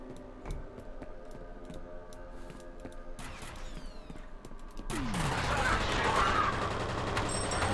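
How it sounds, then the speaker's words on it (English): Gunfire in F.E.A.R.: scattered sharp shots and rapid bursts under game ambience, swelling into a dense, louder fusillade in the last few seconds. "There's somebody shooting at me."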